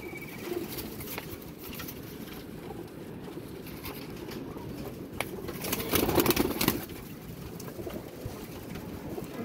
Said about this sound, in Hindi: ये जो फड़त वाले कबूतर हैं सब के सब